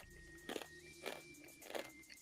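Someone chews crunchy chips or crackers close to the mic, with three or four loud crisp bites spaced about half a second apart over a faint steady tone.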